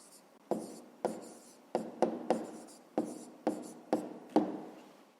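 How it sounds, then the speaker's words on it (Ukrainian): Pen writing an answer on paper, a series of about ten close, short scratching strokes in an uneven rhythm, quiet and with no talking. "Ну що ж, записуємо відповідь."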